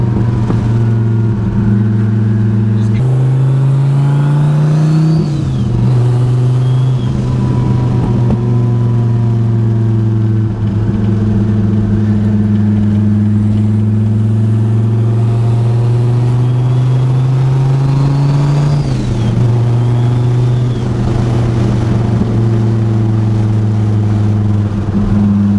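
A twin-turbo Dodge Viper ACR with a burble tune cruises at light throttle, its deep engine drone loud and steady with a few shifts in pitch as revs rise and drop, popping burble underneath.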